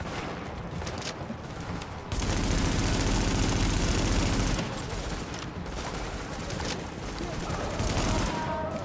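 Turret fire in The Division hammers in dense, continuous bursts of loud automatic shots, swelling to a heavy sustained barrage in the middle with more scattered combat noise around it.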